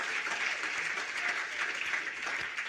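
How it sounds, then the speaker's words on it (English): Steady audience applause at a summit opening night ceremony, an even, continuous patter of many hands clapping at moderate distance. "Another round of applause."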